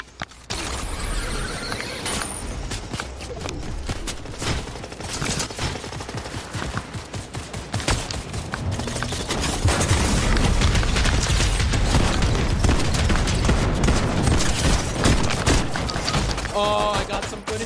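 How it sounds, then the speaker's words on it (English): Dense bursts of gunfire and heavy shotgun blasts from a Fortnite zero-build battle, firing continuously with thumps and mechanical clicks, with players talking over the shooting. "I got in some shotgun blast"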